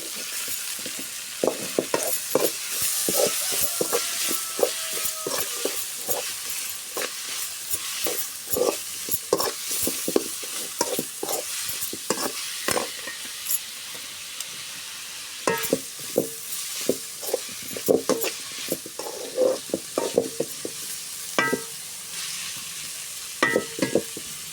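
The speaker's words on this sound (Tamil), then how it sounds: "தக்காளி போட்டு கொஞ்சமாக கல் உப்பு போட்டு நல்லா வதக்கிட்டு இருக்கிறேன்" Tomatoes and rock salt sautéing in a pan for a Sunday fish curry meal, a steady close sizzle broken by frequent scraping stirs and light metallic clinks of the spoon against the pan, with no voices.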